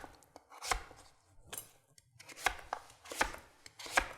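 A kitchen knife cuts a peeled vegetable into thick slices on a cutting board, five or six separate crisp thunks spaced about a second apart, close and clear with quiet pauses between.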